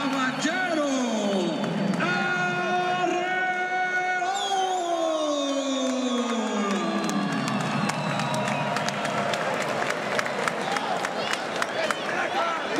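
A crowd at a Tijuana fight event claps and cheers in a burst of dense applause, following a stretch where a loud amplified voice makes an announcement in a large hall.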